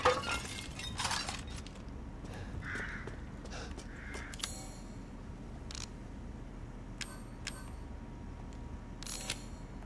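Glass pots shattering in the horror game Resident Evil Village: a sharp crash at the start, then several brief bright breaking and clinking hits scattered over a quiet low background.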